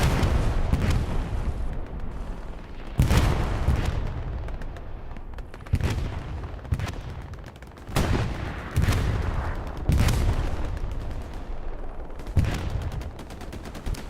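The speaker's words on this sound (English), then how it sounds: "Artillery rounds begin to land" Artillery shells land in Hell Let Loose, a World War II shooter, on an Omaha map: a run of heavy booming impacts arrives roughly every two seconds, loud and close, mixed with scattered gunfire and rumbling between the blasts.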